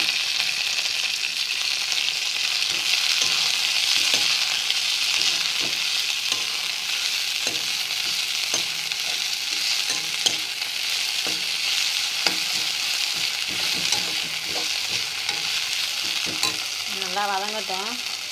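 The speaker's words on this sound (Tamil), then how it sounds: "நல்லா வதங்கட்டும்." Coriander and mint leaves frying in a pan, a constant loud sizzle with regular scraping stirs throughout, close up and uninterrupted by speech.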